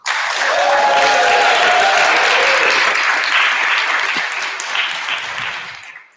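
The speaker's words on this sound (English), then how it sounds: "I was wondering if you could all just give Vicky a round of applause to thank her for the effort in helping Romy" A large audience at a positive psychology conference in Utrecht applauds, a loud, dense wash of clapping that swells at once and holds steady for about six seconds before cutting off.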